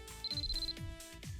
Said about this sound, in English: my phone starts ringing